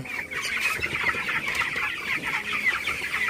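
Broiler chickens, 24 days old, in a shed on a hot night cluck and chatter continuously. Many birds murmur together at moderate loudness, with no voices over them.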